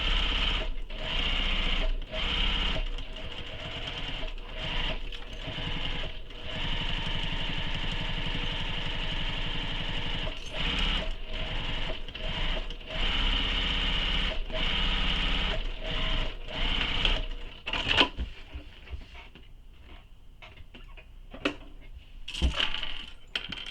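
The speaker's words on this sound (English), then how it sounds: "So basting stitch all the way around." A sewing machine runs a basting stitch around a foam-lined tote bag, a steady close whirring hum for most of the time with brief stops, then quieter bursts near the end.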